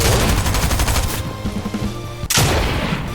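Rapid automatic gunfire in Fortnite, loud and close, with a fast rhythmic stream of shots, a brief pause, then another sharp burst.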